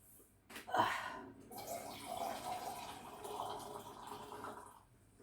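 Water pours into a cooking pot for corn soup, starting with a splash and then running as a steady stream for several seconds before tapering off.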